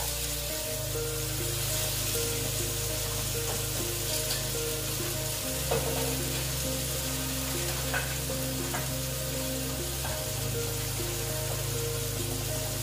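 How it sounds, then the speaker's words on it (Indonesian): Chicken tongseng is sautéed with ground spices until it dries, giving a constant loud sizzle and spatter over a low, steady mechanical hum in the background. "lalu kita tumis lagi ini kita tumis sampai dia mengering"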